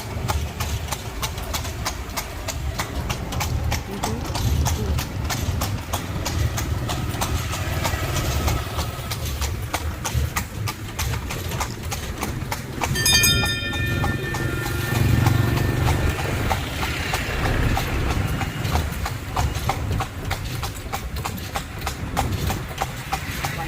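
A carriage horse trots through a Thai town on a sightseeing ride, its hooves clip-clopping in a steady rhythm over a constant low rumble of nearby engines, with a brief brighter metallic ring partway through.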